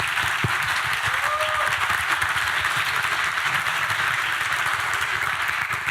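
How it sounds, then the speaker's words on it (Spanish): Steady audience applause from a crowd, sustained dense clapping filling the whole stretch at an even level, heard from within the room with no talking. "Por favor, un aplauso por todo el público."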